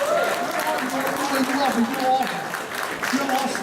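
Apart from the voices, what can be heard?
audience applause at a gala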